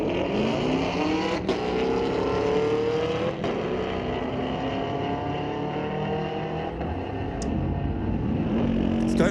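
Race engines roar at a drag strip at Mission Raceway Park as a Camaro launches against a Mustang, the loud engine noise holding steady and rising in pitch throughout, with a faint voice now and then.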